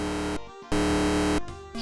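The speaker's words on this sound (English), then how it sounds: "Listen to this buzz though on an incorrect guess." Atari 2600 Hangman sounds its buzz for a wrong letter guess: a harsh, loud electronic drone in two long blasts with a short gap between, and a third starting at the end.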